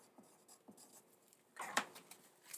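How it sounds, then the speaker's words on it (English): A pen writing down the time on paper, soft scratchy strokes in a quiet room, with a brief busier burst of scribbling near the end. "I'm just going to write down the time"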